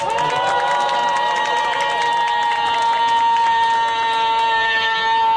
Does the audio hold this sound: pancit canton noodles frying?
no